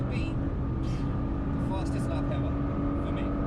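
A car's engine drones steadily at full throttle in fifth gear on the Nürburgring, heard from inside as a continuous loud hum with little variation in pitch throughout.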